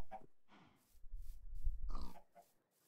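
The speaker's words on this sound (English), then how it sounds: "I like the fact that the pigs, the entities always appear before everything else" Pigs grunting in the Minecraft video game, a short run of low game-style grunts and snorts that come close together at moderate volume, with no talking over them.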